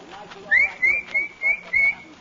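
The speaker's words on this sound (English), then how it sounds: "what's that whistling?" Someone whistles a rising note, then repeats a short steady tone four more times in an even rhythm, close and fairly clear.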